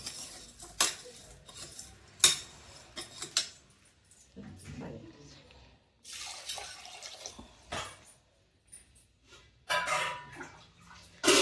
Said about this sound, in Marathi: ते सगळं घेतलं चांगलं हलवायचं